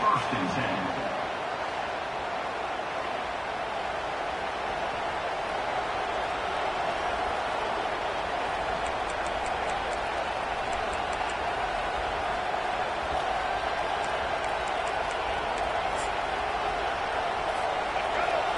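A football stadium crowd at an Illinois college game roars in a steady, dense wall of noise that holds without break throughout.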